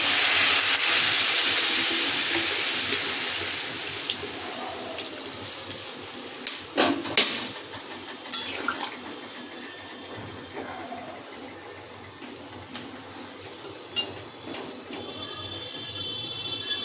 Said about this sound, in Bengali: এবার সবজিগুলো সিদ্ধ হওয়ার জন্য দিয়ে দেবো জল পরিমাণ অনুযায়ী